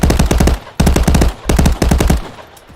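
An MP5 submachine gun fires in a video game in four short automatic bursts, each a rapid string of loud, sharp cracks separated by brief pauses, with the last burst trailing off.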